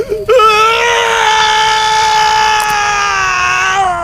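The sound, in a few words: son crying over his father in Jujutsu Kaisen anime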